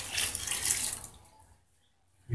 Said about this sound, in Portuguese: Agora eu venho aqui com 2 litros de água quente